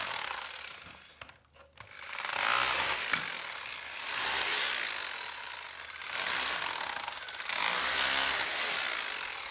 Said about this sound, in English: So I'm raking out in between the stones about 2 to 3 centimetres